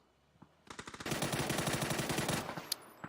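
Rapid automatic gunfire in the PUBG battle royale game, a long sustained burst of dense shots in close succession starting after a few isolated reports and ending with a single sharp crack, loud and without talk.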